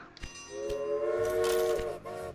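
A train in the railway strategy game Railway Empire on PS4 Pro sounds a long, steady horn over a low rolling rumble, with a few clanks before it.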